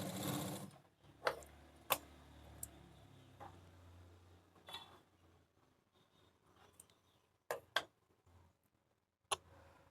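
A domestic sewing machine stitches along blouse piping in short bursts, with soft whirring runs broken by sharp clicks and taps of handling, close and fairly quiet, with no talking.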